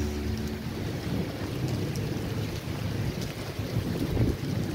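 Heavy rain pours down in Qatar during a thunderstorm, a dense, steady roar with wind buffeting the microphone and a low rumble, constant and unbroken.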